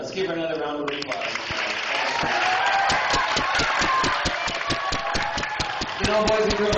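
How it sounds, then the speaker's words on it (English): Audience applause at a morning school assembly at an elementary school, steady clapping from a crowd with sharp individual claps standing out, mixed with a voice speaking over it near the start. "let's give her another round of applause"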